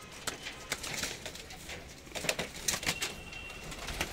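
Pigeons cooing outdoors at a rooftop pigeon-flying contest in India, with soft repeated coos mixed with rustling and a few sharper clicks, moderately close, with no voices.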